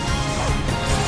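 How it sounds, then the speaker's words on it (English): A dense, loud crashing impact sound effect from a Pokémon Battle Revolution battle, a continuous burst of noisy smash filling the whole moment. "A smashing blow!"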